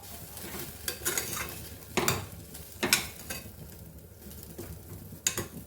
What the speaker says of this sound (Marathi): चांगले एक दोन तीन मिनिटं हे तांदूळ परतून घ्यायचे आहेत